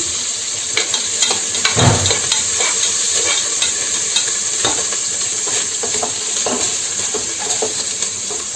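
Eggs stirred and frying in oil in a pan on a low flame while making egg biryani: a steady close sizzle runs throughout, broken by soft scraping strokes of the stirring spoon.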